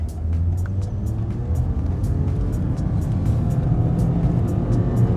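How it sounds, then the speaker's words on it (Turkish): A Toyota Corolla 1.6 running on LPG accelerates at full throttle from a standstill, its engine heard from inside the cabin as a loud, steady, rising drone with rhythmic ticking above it. "Şu an dip gaz gidiyorum."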